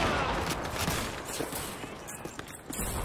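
Rapid gunfire in the Call of Duty 2 video game, a sustained crackle of shots with some footsteps, loud and continuous over the whole stretch, with a faint voice at times.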